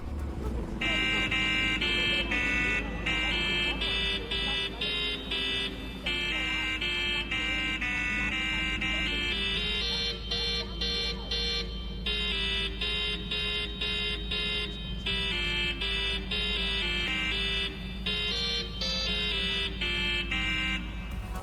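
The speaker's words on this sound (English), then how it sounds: "Near Charing Cross Station, you can find a car with a very special horn." A car with a special horn near Charing Cross Station in Watch Dogs: Legion, honking a loud, continuous melodic tune of stepped tones in a steady rhythm.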